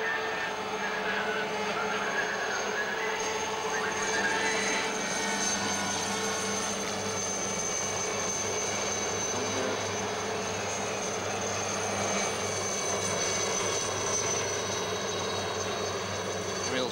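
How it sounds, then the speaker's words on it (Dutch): Two military helicopters circle over a stadium during a 1977 world championship speedway meeting, a steady far-off rotor drone blending with crowd noise and continuing for the whole stretch. "Twee helikopters, militaire helikopters, en hier een rondje boven het stadion."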